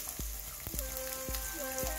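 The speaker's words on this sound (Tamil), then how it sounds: "நெய்யில் இது எல்லாமே நல்லா பொரியணும் பாருங்க" Pepper, cumin and chopped ginger frying in ghee for ven pongal, a steady close sizzle with scattered crackles and small pops throughout.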